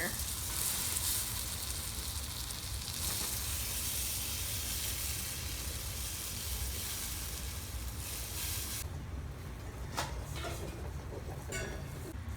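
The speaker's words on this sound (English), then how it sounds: "I'm going to take that spoon and we're going to stir that together" A spoon stirs marshmallows melting with margarine in a pot for Rice Krispie treats, giving a soft, steady sizzle and hiss, faint and continuous, with a few light scrapes near the end.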